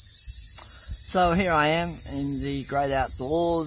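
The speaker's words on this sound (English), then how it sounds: "The noise you can hear in the background, the cicadas, and there's birds" Cicadas buzz steadily outdoors as a high continuous drone behind someone talking close to the microphone, with birds also present in the background.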